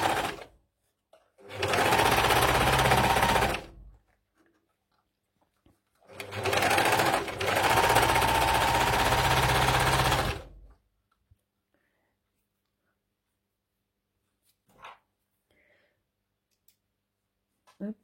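A serger or sewing machine trims the seam allowances on a T-shirt, running loud and close in two bursts of a few seconds each, then falling silent apart from a few faint clicks.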